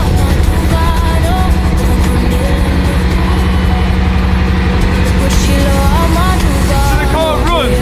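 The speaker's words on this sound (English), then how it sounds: "To me, it sounds like it has a small misfire." A Bugatti car engine runs loudly nearby with a slightly uneven, stumbling rhythm from a small misfire, under a steady rumble.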